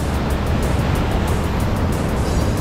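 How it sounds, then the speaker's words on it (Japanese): Rough sea surf breaking at Hokazaura on the Mie coast in Japan, a loud and steady roar of crashing waves that fills the whole stretch, with no voices over it. "えぐいな波。"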